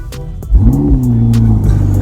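Lamborghini Huracan STO engine starting up: a few clicks, then a sudden loud catch that settles into a deep, steady, throaty idle with a slight rise, close by.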